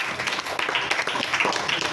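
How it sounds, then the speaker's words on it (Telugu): A church congregation claps together during a gospel service, a dense, steady patter of many hands lasting the whole moment, moderately loud and without speech. "గట్టిగా చప్పట్లు కొట్టాడు ఒకసారి"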